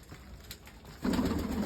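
Pigeons coo softly in low, throaty murmurs that swell toward the end, heard nearby over a faint background hum.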